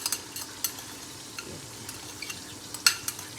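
Ginger and garlic roasting in a karahi, a soft steady sizzle broken by scattered small clicks of stirring and a sharper scrape near the end, fairly quiet and close with no talking.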